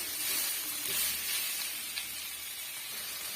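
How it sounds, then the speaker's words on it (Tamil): Onion and spice mixture sautéing in a pan gives a steady, close sizzling hiss that runs alone without pause. "இது எல்லாம் சேர்த்து ஜஸ்ட் ஒரு 3 மினிட்ஸ்க்கு வதக்கி விட்டுக்குங்க"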